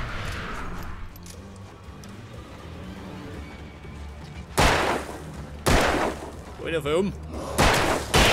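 Revolver shots in the Alan Wake video game ring out as three loud, sharp bursts spaced a second or two apart, over low game music, with someone talking in between.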